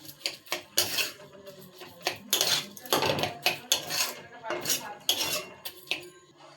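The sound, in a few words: mixing in sugar while cooking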